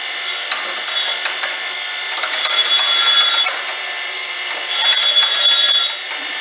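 A diamond dresser scrapes across a spinning surface grinder wheel in a coarse dress, a loud, hissing grind that swells in two passes over a constant high whine, with no talk.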